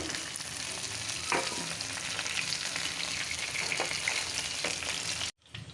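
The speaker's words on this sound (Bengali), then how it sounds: "মাছটা ভাজা হয়ে গেছে," Fish fries in hot oil in a home kitchen pan, a dense, steady sizzle with occasional stirring scrapes, close and continuous until it cuts off abruptly near the end.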